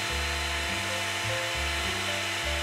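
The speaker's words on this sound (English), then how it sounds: "Over at the router table, I installed a round nose bit" A router table fitted with a round nose bit whines loudly as it cuts flutes into wooden trim pieces for a Federal-style lamp post, a close, steady high motor tone that shifts in pitch as the wood is fed through.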